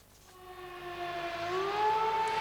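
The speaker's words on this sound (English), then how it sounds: "Sirens sent people running in Tomislavgrad this morning." Air raid sirens wail over the town of Tomislavgrad during wartime shelling, a sustained, rising tone that swells gradually louder from a distance with no voices over it.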